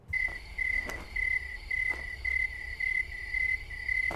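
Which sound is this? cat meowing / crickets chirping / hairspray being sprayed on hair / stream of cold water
crickets chirping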